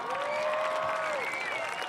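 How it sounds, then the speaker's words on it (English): Crowd applause and cheering at a high school football game fill the stands continuously, loud and steady, with voices and a whistle-like tone rising over the clapping. "How about a round of applause?"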